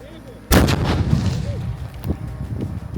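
On a Ukrainian frontline, a drone-dropped bomber canister detonates with a sudden, loud, sharp blast, followed by a rumbling decay and lingering outdoor noise.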